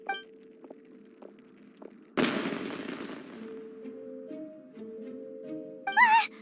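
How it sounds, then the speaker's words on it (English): A firework explodes in the video game Genshin Impact as one sharp burst that trails into crackling, set among soft tonal game music and chimes. "Was that an explosion? It sounded like firework."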